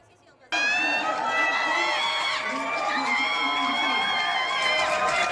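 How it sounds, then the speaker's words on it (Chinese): Friends and family of a returning youth baseball team, Taoyuan Xinmin Junior High, erupt in sustained cheering, whoops and shouting as the players appear with their luggage at an arrival welcome, loud and continuous from a sudden start. "现场亲友加油团立刻为他们送上欢呼"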